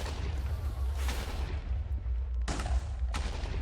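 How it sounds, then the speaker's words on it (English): Explosions in Minecraft go off in a wither rose farm, a few sharp booming bursts with dull rumbling between them, fairly faint and distant. "we could just hear the explosions now"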